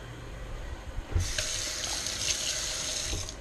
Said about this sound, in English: Again, gotta wash off my hands.